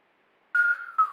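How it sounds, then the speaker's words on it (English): A few attempted whistles: a breathy, wavering tone that starts suddenly, holds about half a second, then a second shorter blow follows, close and fairly loud with no talk. "I can't whistle right now."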